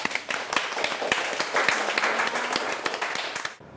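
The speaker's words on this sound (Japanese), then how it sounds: "またもや拍手。" Studio audience applause during a TV interview, a brisk round of many hands clapping at fairly close range, steady for a few seconds before cutting off abruptly.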